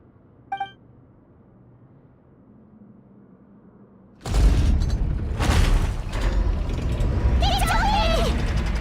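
A sluice gate mechanism grinds shut in Genshin Impact, a loud sustained mechanical rumble with ratcheting and creaking that starts abruptly after a quiet stretch and continues to the end, with a brief chime early on.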